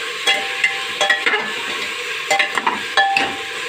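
Dalia and dal toast in a pan with a low sizzle, broken by short bursts of scraping and clinking as a spoon stirs, close and fairly loud.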